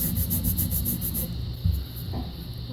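A hand rubs dry, crumbling cork, making coarse scratchy rasping strokes that are quick and rhythmic at first and then loosen into softer, uneven rubs, close to the mic.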